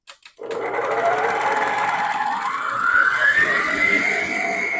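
Stand mixer beating pound cake batter: after a couple of clicks the motor starts up and runs as a loud, steady whir that rises slightly in pitch, close by, with no speech.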